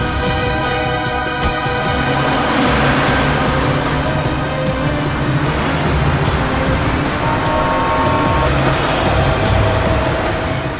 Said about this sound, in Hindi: ए ड्राइवर, चलो चलो, गाड़ी चलाओ।